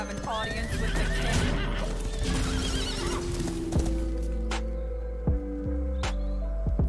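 A horse whinnies from the Hearthstone card game, a clear, loud neigh accompanied by clip-clopping hooves and game sound effects, with someone talking over parts of it.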